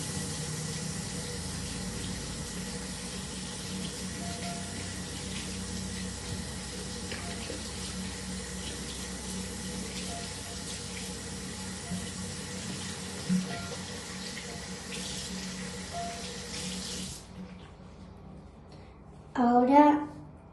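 A tap runs steadily into a sink as hands are washed, a continuous close hiss of flowing water that stops abruptly near the end, followed by a brief clatter.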